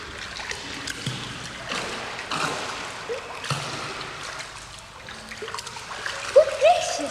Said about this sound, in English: What's that splashing about over there?